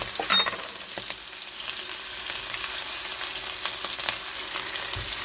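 Ginger, garlic and onion frying in oil left from frying fish, giving a continuous close sizzle with scattered pops and light stirring, and no voices.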